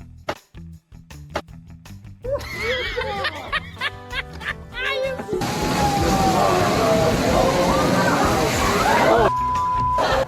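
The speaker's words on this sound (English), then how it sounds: "It's like an indoor waterfall that nobody asked for." Loud, steady rushing water pours continuously indoors like a cascade, with voices and laughter mixed in around it.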